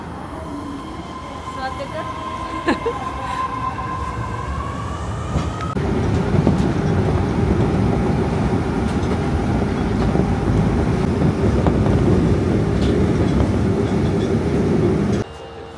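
Osaka subway train heard from inside a car as it rides, a steady loud rumble with a rising motor whine, then a louder, rougher rolling roar from about six seconds that holds until a sudden drop near the end.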